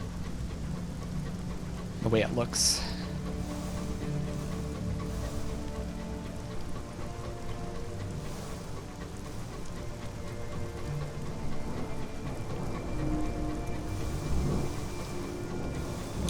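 Steady rain falls in the video game Sunless Skies at Port Avon, a soft continuous hiss beneath someone talking, with a brief louder sweep near the start and faint background tones.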